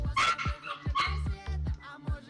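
Set off by a door buzzer, a dog at home lets out a rapid string of loud, close barks mixed with higher yips and whines, about six or seven in a little over two seconds.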